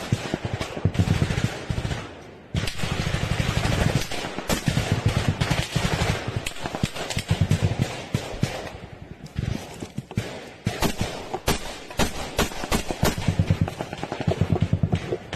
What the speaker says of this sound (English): Firefight going on all around him. We can hear the bullets bouncing off the ground nearby. We can also hear the Ukrainians returning fire